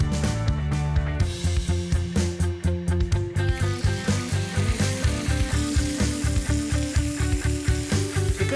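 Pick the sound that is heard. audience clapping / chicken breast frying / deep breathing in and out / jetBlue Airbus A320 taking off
chicken breast frying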